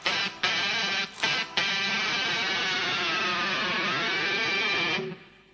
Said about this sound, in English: For the last time, when you do it, push down on your whammy bar at the same time.